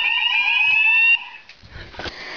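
A loud, shrill electronic alarm sounds steadily during a fire alarm system test, then cuts off abruptly, leaving faint handling noise and rustling.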